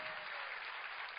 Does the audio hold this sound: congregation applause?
yes